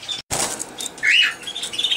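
Shaft-tail finches flutter and call inside an aviary cage, with a brief burst of wingbeats followed by a short high chirp and scattered faint tweets close by.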